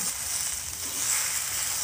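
Fried potatoes and carrots stirred into a hot pot of soybean khichuri, giving a steady, close sizzling crackle of frying throughout.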